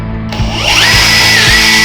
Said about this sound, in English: You drill the fourth hole from the backside.